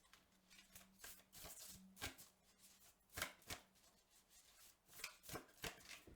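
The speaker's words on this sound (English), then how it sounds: "This deck is not the easiest to shuffle." A tarot card deck being shuffled by hand, giving a run of soft, papery riffles and flicks in irregular bursts, close and fairly quiet, with a faint steady low hum underneath.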